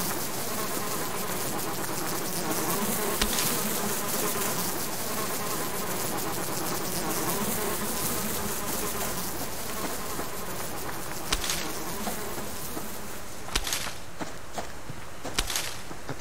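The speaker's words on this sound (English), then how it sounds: "because of the bees." Bees swarm around a honey-gathering spot in the survival game Subsistence, a loud, dense, continuous buzzing drone that fills the whole stretch, with a few faint clicks and steps near the end.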